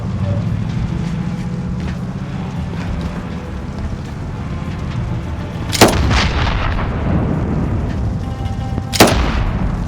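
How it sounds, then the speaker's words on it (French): Gunfire in the Call of Duty Modern Warfare video game, fired at vehicle tyres during a chase, gives two sharp, loud blasts several seconds apart over a dense, rumbling background of engine and battle noise. "Vise leurs pneus pour les ralentir! Tire sur les pneus!"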